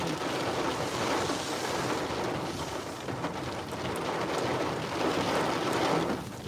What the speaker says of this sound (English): Here comes the wind. Here it comes.